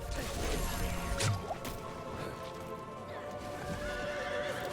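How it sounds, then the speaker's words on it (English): A horse whinnies loudly in the Diablo 4 video game, with clip-clopping hooves and a brief crash early on, set against a steady game soundscape. "Get the fucking horse here."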